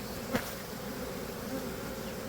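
Honeybees buzz in a steady low drone around an open hive during an inspection with a smoker, with a brief sharp knock early on.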